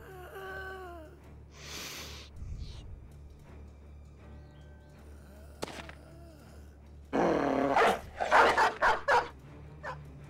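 Dogs bark, yip and whimper in a burst of close, sharp calls in the medieval combat game Battle Brothers, with quieter game sounds before it.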